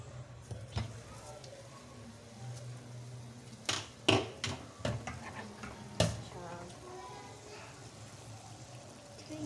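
Chicken being stirred into a white sauce in a pan, with a steady low sizzle and several sharp spoon scrapes and clanks against the pan in the middle.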